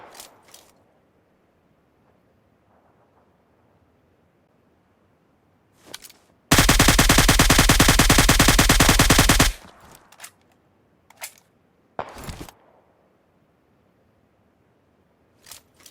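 An AUG A3 assault rifle in PUBG Mobile, fitted with a muzzle brake and magnified scope, fires a sustained three-second full-auto burst of rapid, loud cracks, framed by a few isolated single shots amid near silence.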